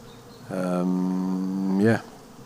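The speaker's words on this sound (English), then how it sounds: "I placed a microphone within the hive so you can hear some of the strange and interesting social noises the bees make" Bees inside a hive make a social call picked up by a microphone among the comb: one sustained, rich buzzing tone lasting over a second, ending with a brief upward-sweeping squeak, close and clear over a faint hum.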